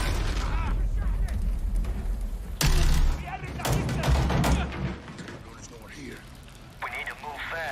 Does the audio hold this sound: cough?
no